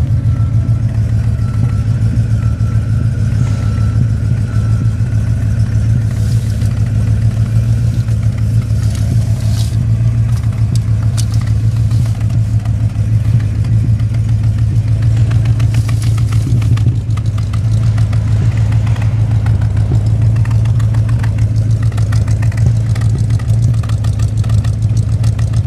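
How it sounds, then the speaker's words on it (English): A 1967 Cadillac Eldorado engine idles steadily with a deep, continuous rumble, running on old gas with slight irregular sputters through the exhaust, close and loud with no talking. "So you might be hearing a little bit of sputtering there."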